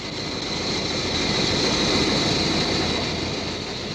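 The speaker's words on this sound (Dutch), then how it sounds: "dan start ik het motortje" A small boat's outboard motor running in a cartoon, a steady loud droning buzz that holds evenly for several seconds with no voices over it.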